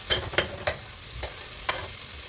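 A brief, close pan sizzle, with a few crisp utensil clicks as the food is stirred.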